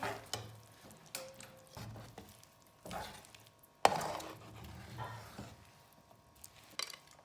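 Roasted peanuts being stirred into hot jaggery syrup in a pan with the stove turned off, giving irregular scraping and knocking clatters of a spoon against the pan, close and moderately loud, with no voices.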